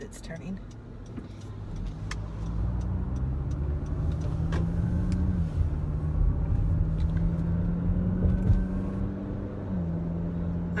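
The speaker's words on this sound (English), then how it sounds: "There's a big bus." A big bus rolls past on the road, a close, heavy engine drone with a steady low hum and shifting pitch, plus scattered ticks and clicks over the constant traffic rumble.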